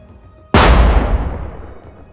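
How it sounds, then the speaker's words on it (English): A single loud explosive blast from a drone-dropped munition striking a vehicle in a combat zone, an abrupt sharp onset followed by a long rumbling decay that fades over a couple of seconds. "A drone drops explosives in a direct hit."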